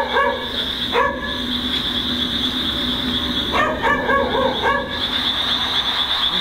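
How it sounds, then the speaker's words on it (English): A dog barks once, then a short series of yelping barks a little later, over a steady high-pitched hum. "he decides to film as he searches for the barking dog"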